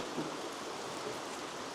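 Heavy, steady Scottish rain pours down in a dense, continuous hiss with no other sounds standing out.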